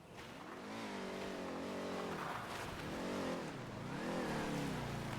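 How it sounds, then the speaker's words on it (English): A car in a role-play video game drives past, its engine note rising and falling in smooth revving sweeps with a hint of tire noise, steady and fairly close, with no talk over it. "I hear a car."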